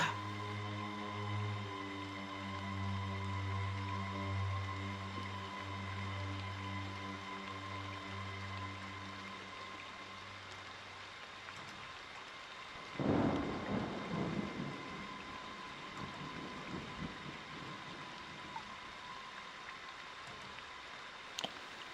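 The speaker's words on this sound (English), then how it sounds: "Everybody's just listening to the rain and watching the fire." Rain and thunder in the video game Friday the 13th: a steady patter of rain with a low background hum, then a rolling thunder crack about midway that rumbles on and fades.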